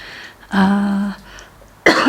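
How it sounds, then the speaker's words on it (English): Two short throat-clearing sounds, one a longer rough hum and the other a quick harsh burst, separated by a brief quiet pause. "I'm sorry for clearing my throat so much."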